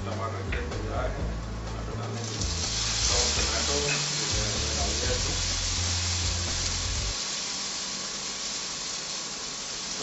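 Onions frying and being stirred in a pan while soya masala chaap is cooked, with a steady loud sizzle and scraping under continuous talk throughout.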